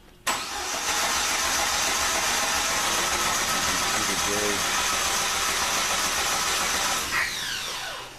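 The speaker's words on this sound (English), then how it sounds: "Let me give it a crank real quick and see what happens." A 1995 Jeep YJ with a no-start fault cranks steadily and loudly from about a quarter second in, the starter churn holding for roughly seven seconds before easing off, with no catch into running.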